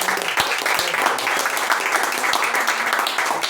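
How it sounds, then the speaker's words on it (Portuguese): A church congregation claps together in sustained, fairly dense applause at close range, steady for a few seconds with scattered louder individual claps. "Vamos aplaudir a Cristo."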